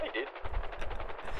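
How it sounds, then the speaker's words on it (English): In a video game, a helicopter's tail rotor gun fires a rapid, rhythmic burst of automatic shots, moderately loud and mixed with a voice speaking. "I haven't seen the tail rotor gun in a while."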